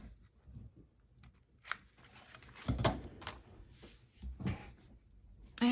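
Scissors make a slight angled cut through a paper bag in a few separate crisp snips and rustles, close by and fairly quiet, with pauses of near-silence between the cuts.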